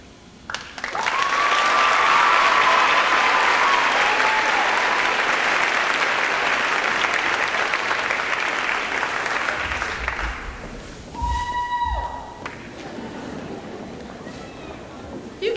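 Audience at a school farewell ceremony applauding: loud, dense clapping swells and holds for about ten seconds, then fades, followed by a few short tones.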